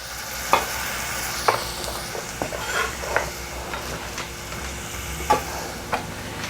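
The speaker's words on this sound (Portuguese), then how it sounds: "a cebola refoga" Onion sautés in a pan with garlic, giving a soft steady sizzle. Scattered clicks and scrapes of a utensil stirring against the pan sound every second or so, fairly quiet with no voices.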